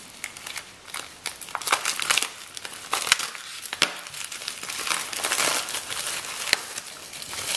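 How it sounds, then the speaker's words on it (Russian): Crinkling plastic wrapping of a mail parcel from China holding USB connectors as it is torn open, close and busy with sharp crackles and rustles throughout, no talking. "Открываем посылку."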